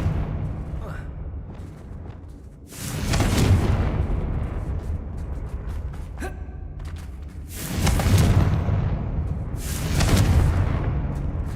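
Confringo, a blasting spell cast in Hogwarts Legacy, produces three loud, booming bursts spaced a few seconds apart, each with a rumbling tail, over a constant low game ambience.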